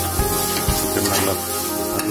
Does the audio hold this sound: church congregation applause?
no